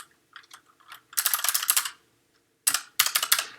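Someone types a message on a computer keyboard in short bursts of rapid, close clicking, with a long pause between the two main runs and a few scattered light taps before them.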